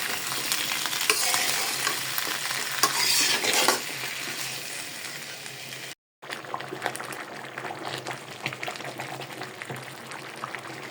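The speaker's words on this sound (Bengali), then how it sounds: "এবার দিয়ে দিচ্ছি আমি বাঁধাকপি। এবার দিয়ে দিচ্ছি আমি সবুজ জিনিসগুলা।" Cabbage and green vegetables being stirred and fried in a pan for vegetable khichuri, a steady close sizzle with scraping utensil strokes, broken by a brief silent gap midway, with no talking.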